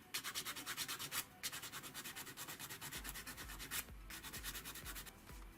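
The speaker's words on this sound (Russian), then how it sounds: "Места спайки, там где есть излишки олова, его необходимо снять с помощью либо пилки," A needle file rasps excess solder off a soldered part of a Zvezda GAZ-233014 Tigr scale model, close and rhythmic, quick repeated strokes with a brief pause midway.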